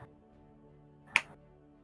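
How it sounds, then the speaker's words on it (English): A single loud, sharp hand clap rings out once in an otherwise quiet indoor space during a tabletop role-play session, short and percussive with a brief decay. "It gives a loud clap,"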